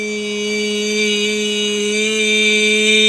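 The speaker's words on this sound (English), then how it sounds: "exert effort to continue to produce a forceful E sound" A voice holds a forceful, high-pitched "E" vowel as a speech exercise during stroke recovery, one steady, loud, close tone sustained for about three seconds with no other sound.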